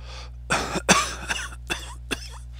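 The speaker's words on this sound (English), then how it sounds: "Sorry about the cough." A person coughs several times in a short burst, close and loud, over a steady electrical hum.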